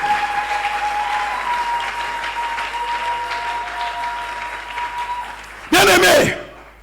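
A church congregation breaks into loud applause for the Lord during a prayer service, a short dense burst of clapping that follows a voice speaking and then fades.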